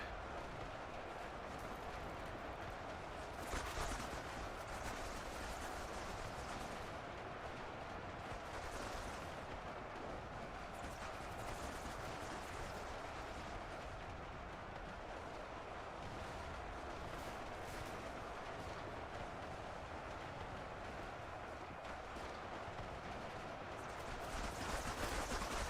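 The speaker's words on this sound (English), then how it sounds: "That's a lot of bullets." Dense, continuous gunfire in the Ultimate Epic Battle Simulator 2 battle game, a relentless wall of overlapping shots and bursts filling the whole stretch at steady loudness with no pause.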